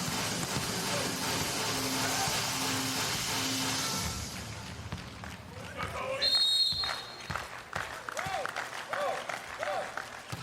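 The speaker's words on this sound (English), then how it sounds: "now everybody clap your hands" A crowd at a men's international volleyball match between Australia and Italy claps loudly and continuously, then the clapping fades into footsteps, shuffling and arena noise as a commentator talks.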